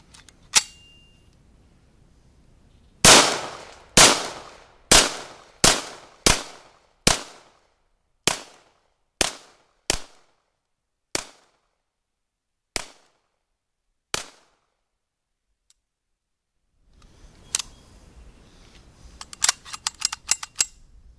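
Cobray M11 pistol test-fired outdoors: a fast burst of sharp shots slowing into single spaced reports with echoing decay, a pause, then another rapid volley near the end; loud and close, no talking.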